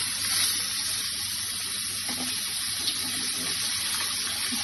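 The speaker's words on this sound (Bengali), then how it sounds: "মাছগুলো একটা দিক ভাজা হয়ে গেছে, তাই মাছগুলোকে একটু উল্টে নেবে।" Small fish frying in hot oil in a pan as the pieces are turned, a steady close crackling sizzle that holds evenly throughout with no voices.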